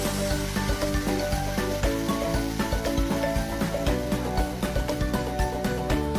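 Dried red chillies and curry leaves sizzle in hot oil for bitter gourd kichadi, a continuous close frying hiss heard under steady background music.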